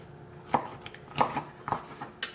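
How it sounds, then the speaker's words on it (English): A knife chops down through lemon pepper barbecue ribs on a board, giving four or five sharp, close thuds spaced unevenly over a couple of seconds with quiet gaps between them. "I'm going to cut through the ribs just because it makes it easier"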